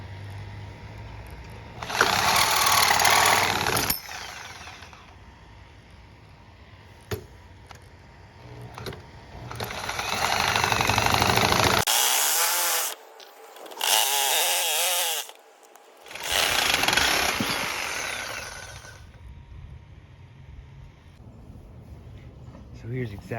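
A scrap BMX bike frame being cut, with loud bursts of power-tool cutting in several separate runs, then a few seconds of quieter workshop noise between and after the cuts.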